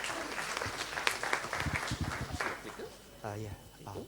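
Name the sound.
audience applause welcoming a speaker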